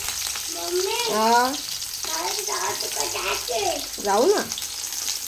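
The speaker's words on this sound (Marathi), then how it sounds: "कांदा चांगला भाजून घेऊया." Chopped onion sizzles and fries in a pan for a ridge gourd dish, a low steady hiss running under someone's chatty talking.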